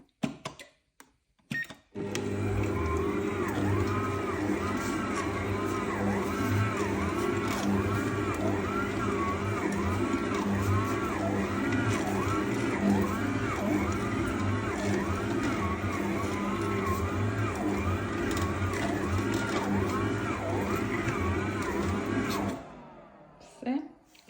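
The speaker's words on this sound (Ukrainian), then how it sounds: "зараз я вмикаю міксер і подивимося, скільки часу йому знадобиться, щоб хоча б трішки попрацювати" A Kenwood Cooking Chef XL stand mixer with a fault runs steadily for about twenty seconds, a loud motor drone with a rhythmic rising-and-falling whine, starting and stopping abruptly, with a voice speaking over it.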